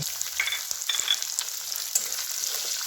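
Onion frying in oil with ginger-garlic paste for an Indian tempering, a steady bright hiss of sizzling with light crackles and a few soft stirring touches, no talking.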